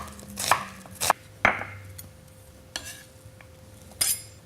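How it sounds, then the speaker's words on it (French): An onion cut in half and sliced flat with a knife on a board: a handful of sharp, separate chops and knocks spaced irregularly, close and clear with quiet gaps, no talking. "je vais le couper en deux, le poser à plat et puis l'émincer avec mes doigts bien retroussés pour ne pas les couper"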